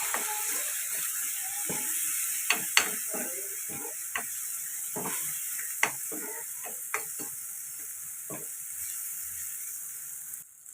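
Tomatoes with chilli powder and coriander powder fry in a pan for Andhra egg pulusu, a faint steady sizzle punctuated by regular spoon clicks and taps against the vessel.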